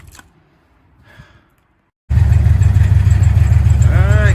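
A Ford Ranger engine with its exhaust removed from underneath roars loud and steady after a quiet, faint-noise start, a dense close-up rumble running to the end.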